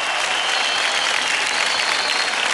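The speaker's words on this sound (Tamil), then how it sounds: "பலத்த கரகோஷங்கள் நம்ம மோகினாவிற்காக" Loud, dense audience applause after a dance performance on a televised dance competition stage, a sustained uniform roar of clapping throughout.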